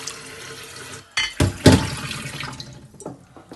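Water poured into a pot of stuffed karela (bitter gourd), a short splashing gush with a few bright clinks and drips, close and loud, with no talking.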